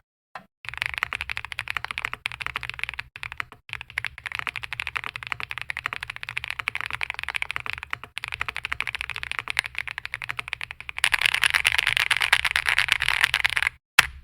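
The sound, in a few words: typing on linear-switch mechanical keyboard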